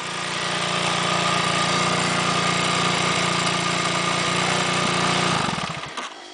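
A dirt bike engine runs steadily while the bike is stuck in a ditch on a trail ride, a loud, close buzzing drone that holds evenly before cutting out near the end.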